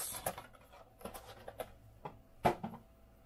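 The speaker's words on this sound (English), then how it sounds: "Fold up our box." A cardboard trading card box from a retail mixer being folded flat by hand, producing a few quiet, dry creases and scratchy taps spread over a few seconds, close but faint.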